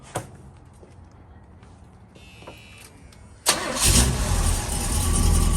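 A car engine fitted with a new exhaust cranks, fires and settles into a loud, raspy idle. A few quiet clicks and knocks come before the start, and no one speaks.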